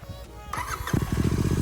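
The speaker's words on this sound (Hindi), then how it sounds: "अब इसको स्टार्ट करते हैं बाइक को," A Royal Enfield GT 650 motorcycle fitted with a Red Rooster exhaust starts up close by: a brief starter whir, then the engine catches into a loud, steady, bassy idle with rapid low pulses.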